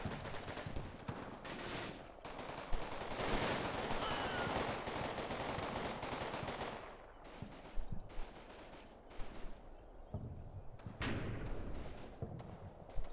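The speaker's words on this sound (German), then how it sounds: "Boah, jetzt das MG." Machine gun fire in the WWII game Combat Mission Final Blitzkrieg: dense, sustained rattling bursts through the first seven seconds, then sparser scattered shots and short volleys, loud and close with no talk.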